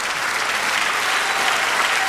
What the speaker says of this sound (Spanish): Dale aplauso, bendícele.